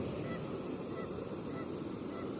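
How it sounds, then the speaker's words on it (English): Geese honk at a distance by a river. The calls are faint and sit under a steady wash of wind and water noise, with no voices heard. "The geese don't even leave anymore because they're confused."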